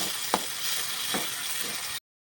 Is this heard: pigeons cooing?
no